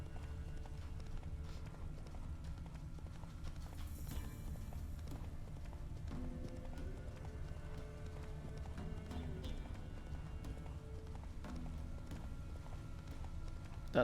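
Horse hooves galloping in the video game The Witcher 3, a steady rapid clip-clop rhythm running continuously at moderate level over a low game background rumble for about fourteen seconds.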